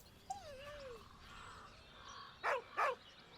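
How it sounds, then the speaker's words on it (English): Scratch, a dog in the video game Baldur's Gate 3, gives a short, thin whine that rises and falls, followed a moment later by two brief yelps, all fairly faint. "With a deep, heartbroken whine, the dog bows his head"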